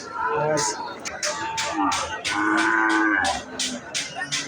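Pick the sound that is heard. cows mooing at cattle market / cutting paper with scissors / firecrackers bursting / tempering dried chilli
cows mooing at cattle market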